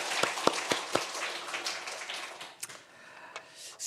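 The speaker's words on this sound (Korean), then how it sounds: "우리 하나님께 영광의 박수 올려드리겠습니다" A church congregation claps during a Sunday service: a few sharp, separate claps up front, then scattered, softer clapping spreading through the room at moderate distance.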